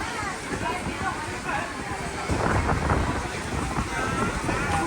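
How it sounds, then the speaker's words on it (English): Strong wind buffets the microphone on a beach on Boracay Island in the Philippines, with big waves rumbling beneath, a steady roaring gust that swells louder midway, and a voice speaking briefly. "Windy."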